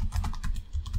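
Fingers type on a computer keyboard in a quick run of close, light key clicks, heard alone without talk.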